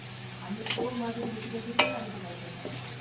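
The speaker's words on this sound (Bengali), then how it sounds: "গাজরটাকে আমি প্রায় তিন মিনিট মতো ফ্রাই করে নিয়েছি" Carrots fry in a pan for a restaurant-style fried rice, giving a low, steady sizzle with a few sharp scrapes and clinks of stirring, moderately close and fairly quiet.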